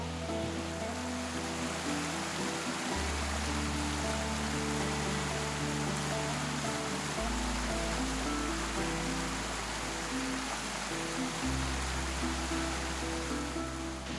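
Waterfalls and a stream in a lush, mossy Colorado canyon, a continuous broadband rush of falling and flowing water that stays steady and fairly close throughout, with no voices.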